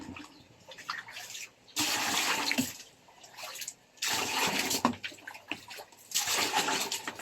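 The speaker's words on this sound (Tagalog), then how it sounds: "Dito ng tubig sa balde." Water pours into a bucket for hand laundry at home, a loud rushing splash arriving in three long surges with quieter gaps of trickling between them.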